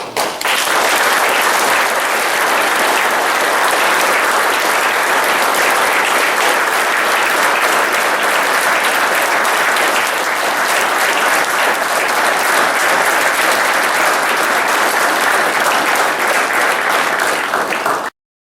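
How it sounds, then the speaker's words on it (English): A sustained round of applause from many hands, loud and even from start to finish, with no voices rising above it before it cuts off abruptly. "Please join me in a round of applause."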